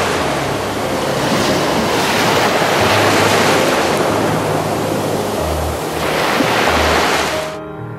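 Ocean surf breaking on a Mediterranean nesting beach where loggerhead sea turtle hatchlings reach the sea, a loud continuous wash with surges swelling around the second and again near the sixth to seventh seconds, with some wind rumble and no speech.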